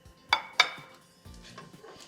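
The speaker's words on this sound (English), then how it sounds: "now I'm gonna plate our bacon" Bacon being plated onto a dish at breakfast, two sharp clinks of utensil against plate followed by softer scraping and tapping of food being set down, close and without talk.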